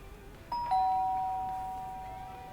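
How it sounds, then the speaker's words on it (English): A doorbell in the video game Lake rings with a bright two-tone chime whose second note rings out and slowly fades over a soft background hum. "Ring the doorbell."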